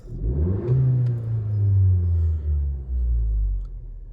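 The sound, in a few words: Honda Civic 10th gen hatchback sport engine revving, Ktuner tuned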